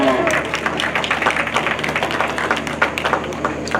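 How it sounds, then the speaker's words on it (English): A livestock show crowd claps for junior exhibitors in a lively round of applause, scattered hand claps building into a dense patter with a voice talking over it. "If you give these exhibitors a round of applause"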